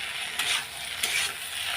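Dried fish and other fish added to a wok with spices, cooking alongside lotus stolons, give a soft, steady frying sizzle with a couple of quick stirring scrapes, fairly quiet and with no voices.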